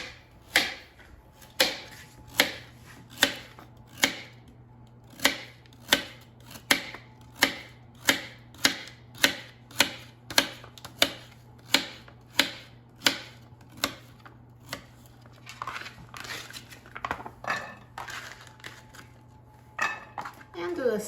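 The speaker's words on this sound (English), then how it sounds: "I will cut it into slices, and then we'll repeat it with the remaining carrots" A kitchen knife slices carrots into thin rounds on a cutting board, producing a long, steady series of crisp chops at a brisk, even pace, close and clear, with a looser, busier stretch of cutting near the end.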